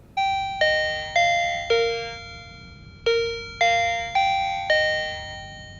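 An Arlec DC678 wireless door chime plays a four-note descending melody twice, bright and clear, each tone ringing out and fading, with no talking.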